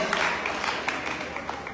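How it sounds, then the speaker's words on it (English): An audience applauds a woman for organising an event, a steady wash of many hands clapping close and fairly loud throughout, with a few sharper individual claps standing out. "please help me give this lady a round of applause"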